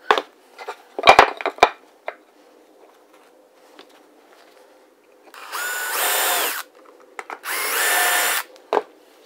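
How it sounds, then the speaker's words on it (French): Power drill boring through a wooden plank for a lamp build, two sustained whirring bursts of a few seconds each, close and loud, preceded by a few knocks and handling clatter. "je viens dans mes trous et je transperce ma planche"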